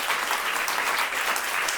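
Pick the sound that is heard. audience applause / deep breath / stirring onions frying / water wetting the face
audience applause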